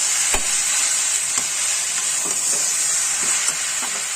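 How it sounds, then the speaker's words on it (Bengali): A fried catla fish head is mixed into cabbage in a pan under a loud, steady hissing sizzle, with a few soft spatula knocks close up and no talking. "এই মাছের মাথা ছেড়ে দিলাম বাঁধাকপির মধ্যে সুন্দর করে মিশিয়ে দিতে হবে"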